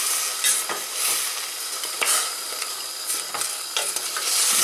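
Potatoes fry and stew in a pan with a steady high hiss of sizzling oil, broken by scraping stirs of a utensil about once a second, close and moderately loud, with no voices.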